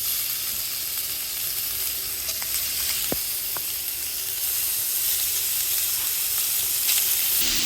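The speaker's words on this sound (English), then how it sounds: "toss the bacon into the pan that is now preheated" Bacon sizzles steadily in a preheated pan on a gas stove, a dense continuous crackle and hiss at close range, with a few sharp pops breaking through and no talking.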